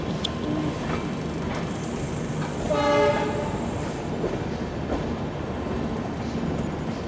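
Poorna Express pulling into Kulayam station, heard from inside an AC coach: a steady rumble of wheels with a rising clattering swell midway and a brief horn-like tone, continuous and fairly loud.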